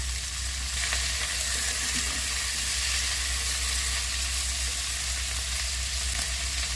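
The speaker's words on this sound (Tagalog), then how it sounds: "Tagisahin lang natin." Garlic sautéing in hot oil in a pan, a steady, close sizzle and crackle of frying that holds evenly throughout with no talking.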